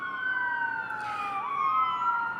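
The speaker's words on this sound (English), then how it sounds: "I don't know if you can hear the sirens." Police sirens passing outside a live luncheon event give steady, fairly quiet wailing tones that hold and bend in pitch as they go by.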